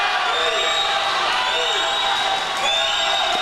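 Crowd of fans cheering and whooping continuously at a men's and women's swimming championship, a dense roar of voices with an announcer talking over it.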